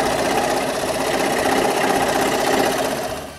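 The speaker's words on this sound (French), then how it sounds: "puis je les coupe avec la scie à chantourner" A scroll saw cuts switch openings in mahogany plates, giving a steady, loud buzzing drone with fast rhythmic vibration that holds unbroken for about three seconds before easing off at the end.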